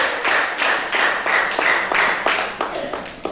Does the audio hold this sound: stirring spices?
no